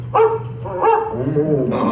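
A dog barks twice in quick succession, close and fairly loud, followed by a short whimpering yelp.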